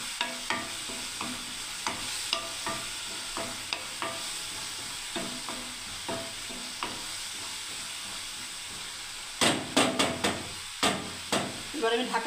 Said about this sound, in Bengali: গ্রেভিটা আমি বানাবো, কষতে থাকবো